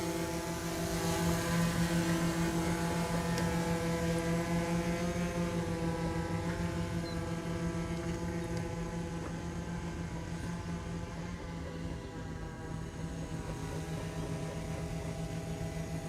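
A camera drone hovers in flight, its rotors making a steady, loud harmonic buzz with stacked tonal bands that holds throughout with no speech.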